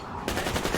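A short, rapid burst of automatic gunfire in Metro Exodus starts abruptly and rattles loudly for under a second.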